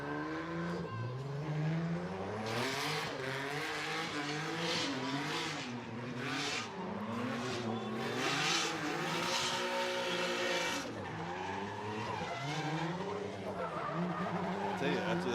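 A Z33 Fairlady Z drift car at Ebisu Circuit West Course, Fukushima, wails at high revs with long tire squeal as it spins out, followed by engine sweeps. It stays loud and continuous, with a commentator talking over it.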